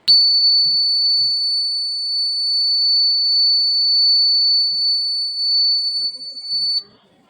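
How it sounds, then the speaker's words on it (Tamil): A loud, continuous high-pitched electronic alarm buzzer from a school science project sounds steadily for about seven seconds, with faint voices murmuring beneath, then cuts off abruptly. "இந்த மாதிரி ஒரு ஸ்விட்சை ஆன் பண்ணோன்னா நான் அலாரம் செட் பண்ணி வச்சுருக்கேன்"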